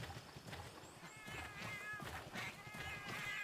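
Cat-like creatures in Monster Hunter 3 Ultimate give a string of faint, high meows and mewling calls over low game background sound.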